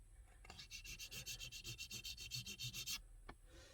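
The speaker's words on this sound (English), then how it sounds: "I'll take just scrape off any old residue" Old adhesive residue being scraped off a car windshield's rearview mirror mount, heard as quick, regular rubbing strokes with a rasping edge, close up but quiet, ending in one sharp scrape.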